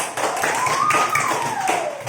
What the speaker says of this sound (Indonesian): tepuk tangan untuk Aska dan Lutfi.